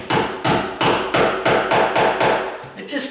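A hammer taps a hollow core door into place during a condo rehab, eight or nine steady, evenly spaced knocks, loud and close, each with a resonant hollow ring.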